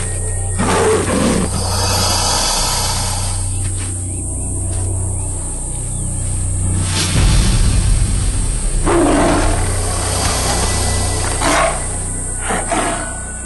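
A tiger roars during a fight with a crocodile, loud and close, in long sustained growling roars over a low rumbling bed with some splashing and thrashing.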